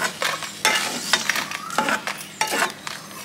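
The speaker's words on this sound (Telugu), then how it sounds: "మిరపకాయలు వేయించుకుని వేరే బౌల్లోకి తీసేసుకోవాలండి" Red chillies frying in oil in a pan, heard as a steady close sizzle with repeated stirring scrapes and light metallic clinks, no talking.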